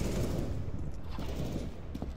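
Dense, continuous gunfire from the CS:GO video game, rapid overlapping shots forming a steady, fairly faint barrage across the whole stretch with no voices.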